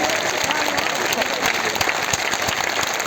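Steady applause from a crowd at a community gathering, a continuous wash of clapping with scattered louder claps, held at an even level throughout.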